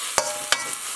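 Vegetable filling for spring rolls being stir-fried with a starch slurry in a wok, two sharp scraping stir strokes over a steady soft sizzle, close and without talk.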